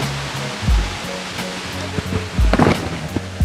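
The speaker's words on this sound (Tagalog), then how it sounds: "Ito nga po pala yung ibabaw ng falls na ating pinuntahan" Hidden Falls in Luisiana, Laguna, poured from the top of the falls as a loud, steady rush of water, with a few low thumps and knocks mixed in.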